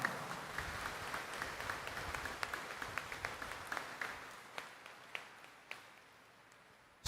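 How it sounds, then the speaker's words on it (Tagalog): Congregation at a Friday Mass in Quiapo Church clapping for the Black Nazarene, a fairly faint, distant patter of many hands with individual sharp claps standing out as it thins toward the end. "Ibigay natin sa Kanya ang ating pinakamalakas na palakpak."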